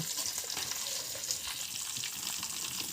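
Mustard seeds, cumin, curry leaves and green chilies fry in hot oil for a Telugu tomato-yogurt chutney tempering, giving a steady, dense crackling sizzle throughout at moderate level, with no talking.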